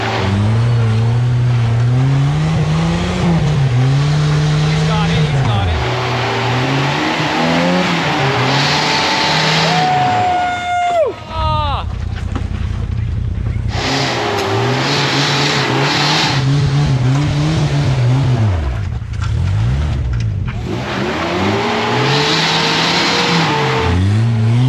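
Small off-road truck on a rock-crawling trail, its engine revving hard and loud in repeated surges with gear changes and brief drops between, close to the listener and with no talking.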